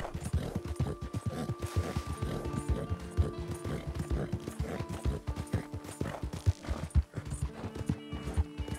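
Steady clip-clop of horse hooves trotting at an even rhythm in the video game Red Dead Online, with occasional whinnies and faint game-like background tones.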